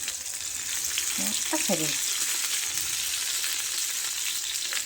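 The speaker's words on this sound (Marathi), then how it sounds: "भाजून घ्यायचं मस्तपैकी." Stuffed Bhavnagari chillies roast in a hot pan with a steady, close sizzle and a few soft scrapes as they are turned, while a voice says a word near the end.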